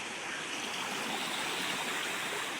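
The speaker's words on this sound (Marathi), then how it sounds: "हे बघा व्हाळाचं पाणी बघा" A flooded stream rushes past, a loud continuous roar of churning water with no pauses, heard close and alone.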